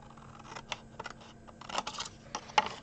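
Scissors cutting paper card for a chocolate gift box, a few brief crisp snips scattered through the quiet, with light handling between cuts.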